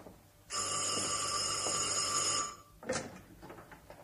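An old-style telephone bell rings indoors in one sustained, bright electric trill lasting about two seconds, followed by a brief clatter and quiet room sounds.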